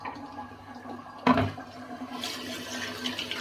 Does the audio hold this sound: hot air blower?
no